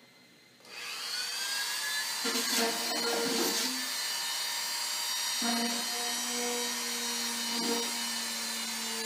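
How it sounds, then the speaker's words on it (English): A Dremel rotary tool whines steadily at high pitch, drilling small holes in a Hobby Lobby display case being made into a tarantula enclosure, starting abruptly and running close and loud with slight shifts in pitch as it bites. "got all the little holes drilled with the Dremel tool"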